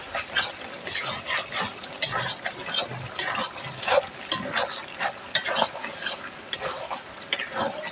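Duck meat for a red bhuna sizzles and fries in a pan while a spatula stirs it, giving steady close scraping strokes over a constant frying hiss.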